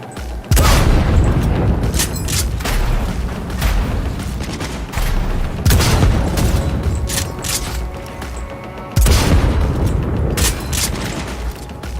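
Gunfire in the video game Cyberpunk 2077: sustained loud bursts of shots and heavy booms, with a few short breaks where fresh volleys kick in.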